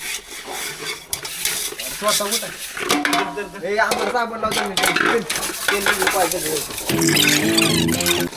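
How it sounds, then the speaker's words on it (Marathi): Dishes and pots clatter and scrape while being scrubbed, with running water and people talking over the clinking. "पार्टी तर केली, आता भांडी पण घासावी लागते."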